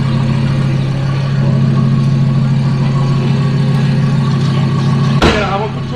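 A Donkervoort D8 GTO-40 sports car engine idles close by with a loud, steady, deep rumble, then gives one sharp rev blip near the end.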